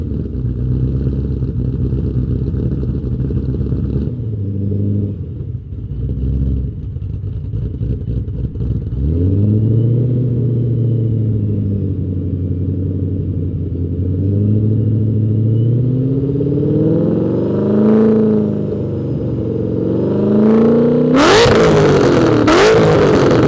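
A 2014 Shelby GT500 Super Snake and a 2020 GT500 rumble at idle, then rev repeatedly in a close exhaust comparison. The pitch climbs and falls in swells, ending in a sharp, loud blip, with no one talking.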